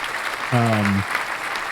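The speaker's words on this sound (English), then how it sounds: "Have a round of applause." Applause from a small group on a whiskey podcast, soft continuous clapping under a brief steady tone that cuts in partway through.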